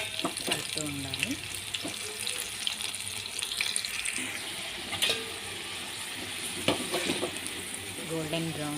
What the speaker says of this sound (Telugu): గోల్డెన్ బ్రౌన్ కలర్ వచ్చే వరకు వేయించుకోవాలండి.